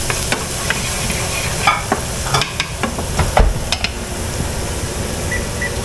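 Ham slices frying for hamsilog in a pan, a steady sizzle with scattered crackles and the occasional scrape of a utensil, close and continuous with no talking.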